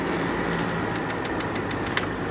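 A Mercedes-Benz W114 220D diesel runs steadily on a test drive through Pocatello, Idaho, its engine drone and clatter continuous and close under road noise, with faint clicking above.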